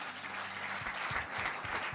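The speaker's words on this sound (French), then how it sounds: "Acclamez pour vous-même." A church congregation in Brussels applauding together, a steady wash of clapping that sounds fairly faint and distant, with no voices over it.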